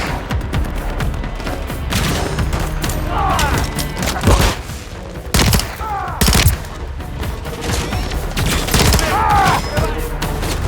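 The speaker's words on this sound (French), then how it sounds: "Des tirs sur les docks." Dense gunfire and booming blasts fill a snowy dockside battle in the 2023 Call of Duty Modern Warfare 3 game, with continuous loud volleys, sharp impacts and brief swelling whooshes throughout.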